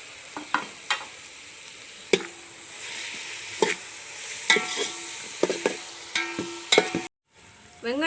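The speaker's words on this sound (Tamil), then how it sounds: "இஞ்சி பூண்டு பேஸ்ட்டெல்லாம் பச்சை வாசனை போகிற வரையிலும் நல்லா வதக்கி எடுத்துடணும்" Ginger garlic paste sautéing with onion and tomato in a pan for village-style mutton biryani, a steady sizzle broken by repeated scraping stirs and clinks of a spoon, close and moderately loud with no talk.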